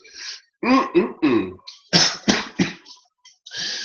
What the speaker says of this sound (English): My God, I cough with excitement.